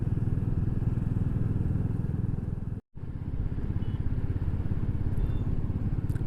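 Motorcycles on a road trip with several bikes riding together, a loud steady engine drone with wind noise that drops out briefly in the middle, then continues.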